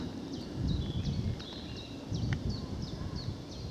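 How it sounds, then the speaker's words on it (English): A willow warbler sings on a wooded footpath near Markyate in May, its short high phrases repeating at a fairly steady rhythm over soft rustling and footsteps. No one speaks. "Just heard a willow warbler in there as well."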